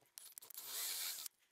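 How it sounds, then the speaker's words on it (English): A drill bores a hole through a Telecaster guitar body, cutting in with short bursts, then grinding steadily for about a second at close range before stopping. "So now we just need to finish out drilling this hole that's in the middle for at least half the distance of the body"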